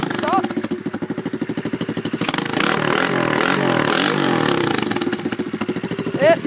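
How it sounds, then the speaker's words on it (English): A 125cc pit bike fitted with a custom exhaust is kick-started, then idles with a rapid, even putter before rising into a couple of loud revs and settling back. People talk nearby over the engine. "One kick start."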